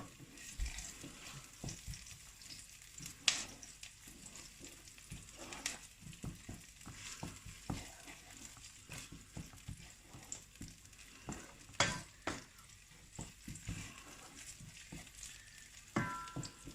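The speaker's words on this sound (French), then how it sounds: "Vous mélangez avec l'ail et les oignons. Vous mélangez bien." Garlic, onions and tomato paste stirred together in a pan: faint, close scraping strokes and a light sizzle, quiet and intermittent with brief clacks.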